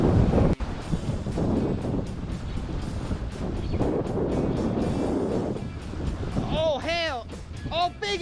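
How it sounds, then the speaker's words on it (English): Wind buffets a microphone at the Destin West Jetty, a steady close rumble and roar that runs throughout, with water sounds and a person talking over it. "There's a little bit of wind"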